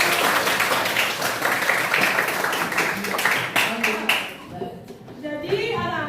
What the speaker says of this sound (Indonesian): Oke, tepuk tangan sudah.